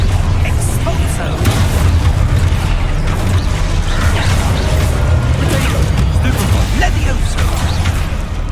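Spell blasts from Hogwarts Legacy gameplay: a loud, continuous wash of magical booms, bursts and rumbling impacts, dense and busy throughout with a voice speaking over the combat.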